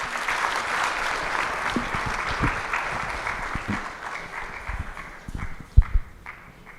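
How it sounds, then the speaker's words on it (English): Steady audience applause at a national antimicrobial resistance conference in Kigali, Rwanda, a moderate hall full of clapping with individual sharper claps standing out near the end as it tapers. "Another round of applause for him"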